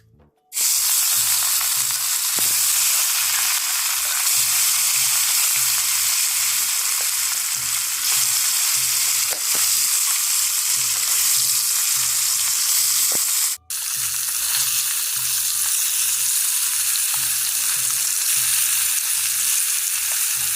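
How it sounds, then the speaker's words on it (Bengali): Fish frying in a pan, a steady loud sizzle of hot oil running continuously with one brief dropout partway through, no voices. "ওদিকে দেখো আমি মাছটাও ভেজে নিব"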